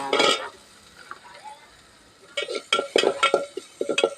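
Vegetables are stirred in a frying pan for veg soup, with a burst of scraping at the start, a quiet pause, then repeated close spoon scrapes and clinks over a faint sizzle.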